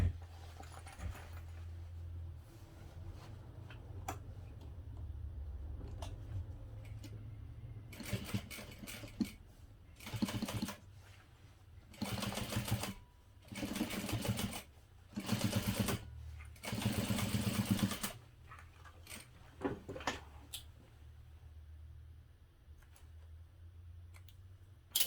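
Sewing machine top stitching through fabric and a small piece of lining for a medium parachute knapsack, running in several short close bursts of rapid stitching separated by brief pauses, with faint handling noise between runs.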